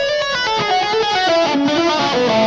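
Distorted electric guitar plays a fast legato line from a solo, hammer-ons and pull-offs flowing in quick connected notes, loud and close with no talking.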